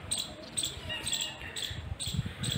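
Faint, sharp, high-pitched chirps repeat at a steady rhythm from an Indian palm squirrel somewhere off at a distance near Sambhar Lake, Rajasthan, India, with soft background noise.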